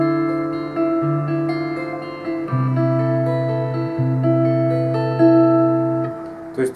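An electric guitar plays a slow melodic line, sustained notes gliding over a held bass note, clean and close with no one speaking.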